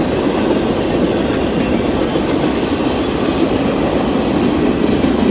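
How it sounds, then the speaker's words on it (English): Steady, loud roar of a passing freight train in Gulfport, Mississippi, wheels rumbling and faintly squealing on the rails for several seconds, with no talking. "There's the end of the train, Anderson."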